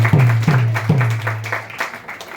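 An audience clapping in a spiritual gathering, scattered uneven claps over a low steady hum, moderately loud and close.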